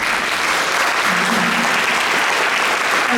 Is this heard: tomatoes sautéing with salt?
no